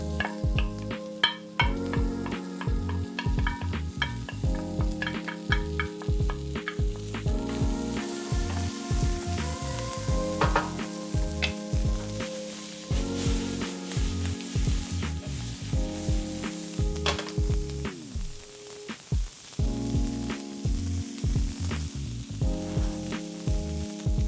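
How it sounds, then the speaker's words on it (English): Potatoes, onions and peppers frying together in a pan, a continuous close sizzle with repeated rhythmic stirring and scraping clatters running through the whole stretch, no voices. "I'm gonna add my onions and peppers back into the pan."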